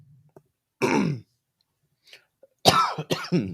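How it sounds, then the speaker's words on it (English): A person clears their throat roughly, then after a pause gives a few harsh coughs in quick succession, close and loud against near silence. "Excuse me, I'm trying not to cough."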